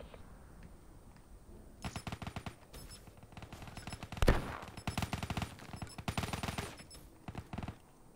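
Gunfire from a Call of Duty Black Ops 3 Prop Hunt match, rapid automatic bursts rattling in several volleys with one sharp louder shot midway, over faint background game noise.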